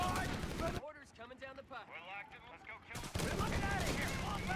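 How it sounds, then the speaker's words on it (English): Machine gun fire in the strategy game Company of Heroes 3 sounds as dense bursts of rattling shots at the start and end, with a voice talking through a quieter middle stretch. "the machine gun will be able to deal with that"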